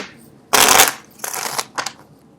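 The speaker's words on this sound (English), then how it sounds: "I don't know why people like to see the card shuffle live" Tarot cards are riffled in one loud burst, followed by two shorter, softer shuffling flutters; no one speaks.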